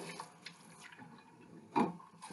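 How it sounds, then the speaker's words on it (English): Water poured into a pot of rice while cooking Filipino-style chicken adobo, heard as faint trickles and splashes from a tap with one louder gush near the end, close by and quiet, without talk. "put some water in there."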